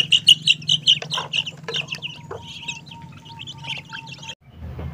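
Newly arrived chickens and ducklings on a small farm peep and chirp in a busy, high, overlapping chorus, with a steady low hum beneath and a short pause near the end.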